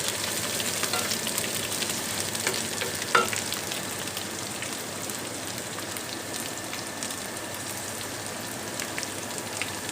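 Tomatoes and green chillies sizzling and frying in a hot pan, a steady crackling hiss with a brief louder pop near the start, continuous and close with no talk.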